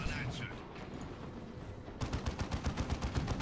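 Heavy bolter fire in the Dawn of War 2 strategy game, dense rapid-fire bursts of thudding shots under a commentator's voice, with a more distinct rhythmic volley in the second half.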